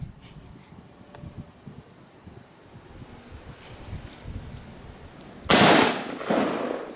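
A single sharp gunshot cracks out late during a whitetail deer hunt outdoors, loud and close, following a quiet stretch of wind rumble and faint rustling, and trailing off in a brief echo.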